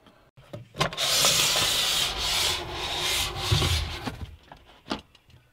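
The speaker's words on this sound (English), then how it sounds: "I am going to put these blinds because it is really hot up" Window blinds are being put up in a hot upstairs room: a rough, close scraping and rustling that runs steadily for several seconds, with a few sharp knocks near the end and no talking.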